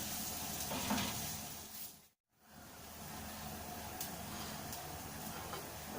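Sliced onion sizzling steadily in a hot pan while cooking Sri Lankan tempered dry fish, a constant close frying hiss with a brief break partway through.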